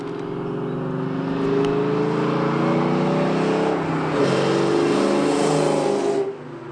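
A loud New Edge Mustang with long tube headers drives past, its exhaust a deep, layered droning rumble that holds steady and swells slightly before cutting off abruptly near the end, heard alone without talk.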